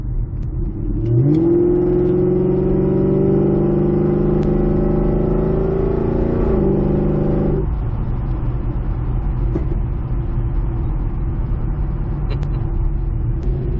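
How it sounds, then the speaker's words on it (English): 2014 Chevy SS sedan accelerating hard up an on-ramp, heard from inside the cabin: the engine note climbs steadily in a loud sustained rev for several seconds, then drops back to a steady cruising drone with road rumble. "Got a little bit of a on-ramp acceleration there."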